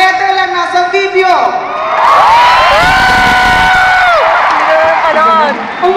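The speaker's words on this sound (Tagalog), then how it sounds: "Magpalakpakan na may kasamang hiyaw" Large arena crowd at a live comedy concert in Araneta cheering, whooping and clapping loudly, the roar building and sustained across the whole span with shrill shouts on top.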